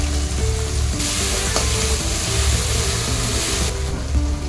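Tomatoes, ginger-garlic paste and Everest shahi biryani masala fry in a pan for masoor dum biryani, giving a steady, close sizzle with occasional louder bursts of crackle.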